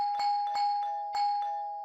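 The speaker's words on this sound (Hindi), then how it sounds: "ऐसा कौन है जो इतनी घंटियां बजा।" Electronic doorbell chiming in an apartment home, a quick series of bright ding tones repeated several times in a row, clear and close, with no talk.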